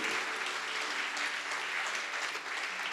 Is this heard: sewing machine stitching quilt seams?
no